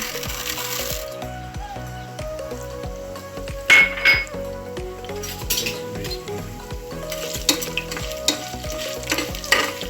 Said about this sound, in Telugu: ఆల్మోస్ట్ ఆయిల్ హీట్ ఎక్కింది కాబట్టి ఇందులో ఇప్పుడు కొన్ని పోపు దినుసులు వేసుకుందాము.